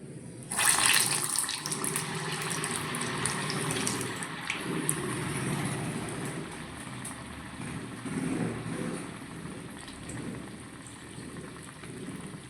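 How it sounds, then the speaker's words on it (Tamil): Cassava vadas frying in hot oil give a steady, fizzing sizzle that bursts up loudly as they are dropped in and then settles into a continuous crackle, close by. "இந்த வடையை நம்ம இந்த எண்ணெயில் கட்டி போடணும்."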